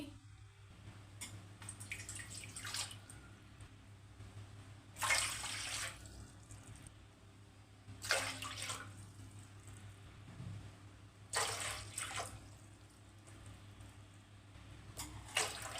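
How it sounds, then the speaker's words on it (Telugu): Several separate bursts of water pouring into a pot for jaggery payasam, each lasting about a second, with quiet pauses and a low hum between them. "ఐదు కప్పులు అయితే వాటర్ పోసుకుంటున్నానండి"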